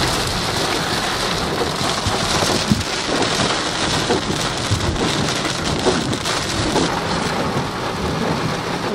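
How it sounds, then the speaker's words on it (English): Heavy rain pours steadily outside in a loud, dense wash with rumbles of thunder underneath, continuous throughout with no voices. "You guys not hear this rain?"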